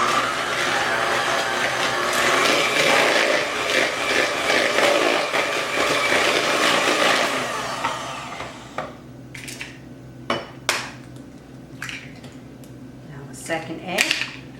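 An electric mixer beats eggs into marshmallow cookie batter with sugar, a loud steady whirring drone that stops about halfway, followed by scattered clinks and bumps of bowl and utensils.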